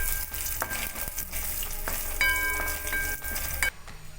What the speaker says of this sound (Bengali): এবারে আমি একটু সরু সরু করে কাটা আদা দিয়ে দিলাম